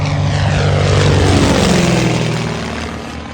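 A propeller airplane departs from a grass strip, its engine droning loud and close with a throbbing buzz that slowly fades as it pulls away.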